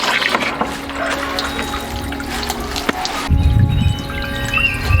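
Water trickles and splashes from a backyard garden fountain, a steady light flow that swells into a louder, closer splashing partway through.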